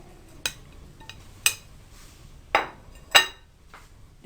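A spoon mixes cumin, salt and coarsely crushed coriander together in a bowl, striking the side in four sharp, separate clinks spaced about a second apart, with quiet pauses between them.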